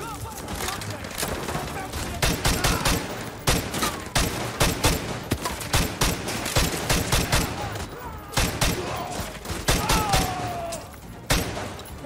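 Rapid bursts of automatic gunfire in the Call of Duty: Modern Warfare 2 Remastered video game, loud and close, repeating in clusters over about twelve seconds with a player talking in between.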